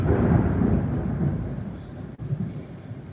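Thunder rumbles through a rainstorm, a deep rolling roar that fades over a few seconds before a second softer rumble swells up.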